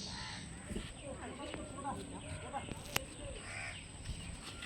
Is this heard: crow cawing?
yes